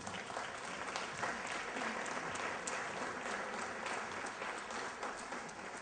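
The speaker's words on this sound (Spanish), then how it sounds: "Brindemos un fuerte aplauso" An audience at a film festival conference applauds steadily throughout, a dense, even wash of clapping hands at moderate distance with no pauses.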